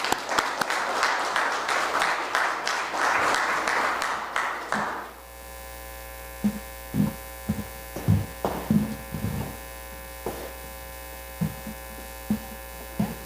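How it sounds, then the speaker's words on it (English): A crowd claps loudly for about five seconds, then the applause stops abruptly, leaving a low electrical hum with occasional soft thumps and knocks. "Please give them a big hand of applause."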